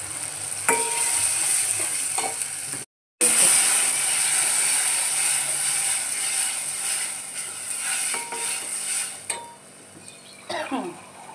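Gujarati-style tempering of cumin seeds and red chilli sizzles and crackles steadily in a hot pan for vaghareli roti, loud and close, with a brief cut partway and a few stirring clinks near the end.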